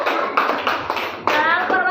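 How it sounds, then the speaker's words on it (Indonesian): Clapping for a student group after their presentation in a classroom setting. A few close hands clap loudly in quick uneven bursts over about two seconds. "kita beri tepuk tangan untuk kelompok 3"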